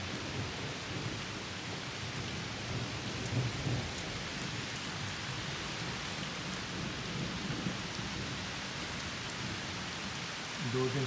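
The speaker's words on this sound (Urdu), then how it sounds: "اور شدید بارش ہو رہی ہے" Heavy rain pours down steadily during a thunderstorm in Britain, a dense and constant hiss with faint low rumbles of thunder beneath it.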